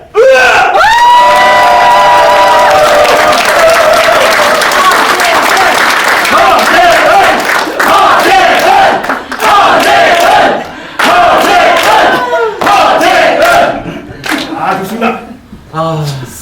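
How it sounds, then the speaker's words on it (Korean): An indoor crowd at a Korean community association election event in Chicago applauds and shouts loudly as a candidate for association president is welcomed, the clapping and cheering sustained and dense for about fifteen seconds before gradually thinning. "큰 박수로 제일 목소리 크게 외쳐주시면서 환영해 주시면 감사하겠습니다"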